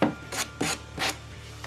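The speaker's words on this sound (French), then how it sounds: "Un petit coup de cale à poncer." Three rhythmic rasping strokes of a sanding block rubbing across wood, close and even, each a short scratchy swish.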